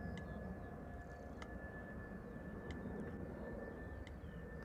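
SAS Airbus A319 jet departing Amsterdam Schiphol for Oslo, a faint, steady distant engine rumble with a thin high whine on top and light clicks.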